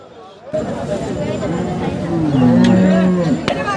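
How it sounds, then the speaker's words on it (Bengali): Cattle at a busy Eid animal market low loudly and close by, one drawn-out moo swelling over steady crowd chatter and nearby talk. "বেশ সুন্দর একটা আমরা দেশাল গরু দেখলাম।"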